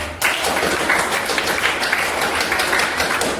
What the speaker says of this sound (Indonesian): Oke, berdiri tepuk tangan.